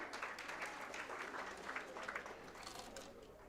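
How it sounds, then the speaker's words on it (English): Audience applause greets expert panelists at a career seminar: a steady, moderately distant wash of clapping that holds for several seconds and tapers slightly at the close. "Please, round of applause for them too."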